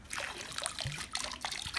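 Master Pool chemical liquid trickles and splashes steadily into pool water, a close, continuous pouring sound with small bubbling spatters.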